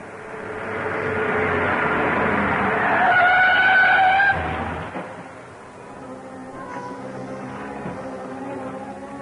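An old car driven recklessly approaches with a loud, sustained engine roar and a rising whine, then drops away into a lower rumble, with no talking.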